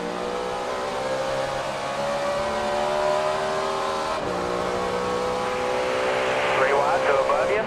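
A Chevrolet stock car in the NASCAR Racing 2003 video game drones at high revs, with a steady engine tone rising and falling slightly, a shift midway and faint tire squeal late on, under continuous commentary.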